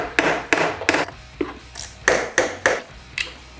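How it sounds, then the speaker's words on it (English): A hammer taps a bit into a screw on a Honda CRF300L motorcycle frame about nine times in a steady, fairly quick rhythm, each metal strike ringing briefly, close up. "tap it in with a hammer"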